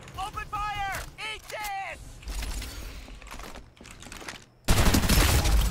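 M4A1 assault rifle fire in the shooter game Farlight 84, dense rapid bursts and crackling shots layered over game effects, with a voice speaking early on before a louder sustained barrage near the end.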